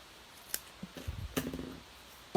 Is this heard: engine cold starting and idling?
no